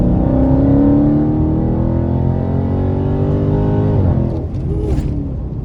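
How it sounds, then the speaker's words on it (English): A Dodge Hellcat or Scat Pack accelerates at full throttle, its loud engine note climbing steadily up close before a gear shift drops the pitch and the roar eases off. "A nice full throttle pull."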